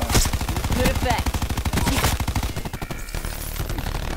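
Rapid automatic gunfire from a sentry gun in a team deathmatch shooter game, long bursts of loud, closely spaced shots that rattle on steadily, with a voice talking over the top.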